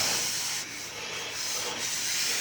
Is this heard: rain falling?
no